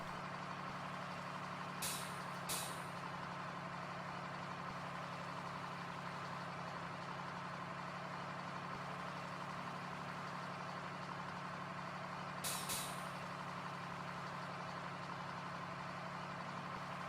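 A loaded logging truck in Farming Simulator 2013 drives with a low, steady engine drone, and sharp air-brake hisses break in twice: two close together early on and one later. No voices.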